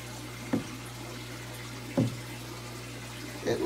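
Water from a leaking aquarium filter in a fish room, heard as three soft splashy drips about a second and a half apart over a steady low hum, quiet and close.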